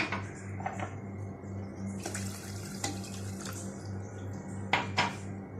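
Water pours steadily into a pot close by for a cake syrup, with a few metallic clinks over a low background hum.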